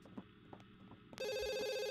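A telephone in The Sims 2 starts ringing partway through, a bright, steady electronic trill that fills the rest of the moment after quiet game sounds.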